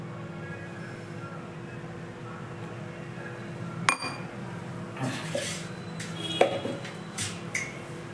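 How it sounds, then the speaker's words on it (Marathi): Dishes being handled: a few scattered clinks and clatters of plates and pots ring out over a quiet, humming room. "लवकर भांडी घेणार आहे"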